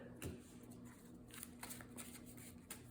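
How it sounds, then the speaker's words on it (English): Quick riffle of playing cards being shuffled close by during a Marvel Champions card game, a short papery flutter followed by soft flicks and taps. "And then we shuffle it back into our deck again."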